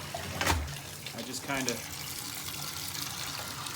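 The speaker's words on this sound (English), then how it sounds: "I like to run some clean water in there" Clean water runs steadily into a sink from a tap to rinse a hunting pack, a continuous close splashing hiss, with a person speaking briefly over it at the start.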